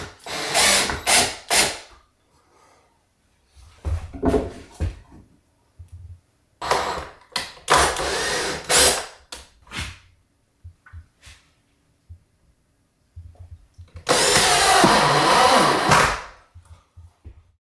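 A power drill drives screws into the logs of a rustic log bunk bed in a cabin: several loud, close whirring bursts of varying length, separated by quiet pauses and small handling knocks.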